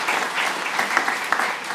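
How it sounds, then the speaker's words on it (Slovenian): Steady applause from an audience at a round-table panel discussion, dense clapping throughout the short stretch with no talk over it. "En aplavz, verjetno, Maja, se zaslužila"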